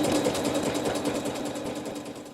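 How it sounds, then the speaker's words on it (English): A sewing machine stitches a quilt block, needle lowering and rising to draw the bobbin thread up, a steady close mechanical whir with fast regular ticking that runs continuously and fades slightly toward the end. "you're going to do a needle down, needle up, so you can bring that bobbin thread to the top"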